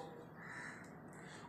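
A crow gives a short, harsh caw over a muffled, steady background, one brief call that is fairly faint and heard alone without talk.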